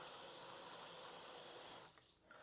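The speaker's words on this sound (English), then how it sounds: "let me put some water in it." Water pouring from a tap into a cooking pot, a steady faint hiss and splash that cuts off near the end.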